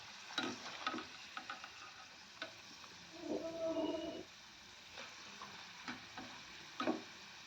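Sweet corn kernels fry in hot oil with a soft, continuous crackling sizzle. Scattered sharp clicks and scraping sounds of stirring are heard close up, and no one speaks.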